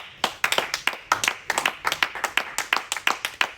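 A church congregation claps in unison during worship, a steady run of sharp, close handclaps with an even rhythm and no talk.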